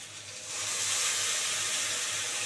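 Ginger and green chilli paste hits a hot cooking pan for a Bengali pangas fish rasha, giving a sudden, steady, fairly loud sizzling hiss that holds evenly after a quiet start.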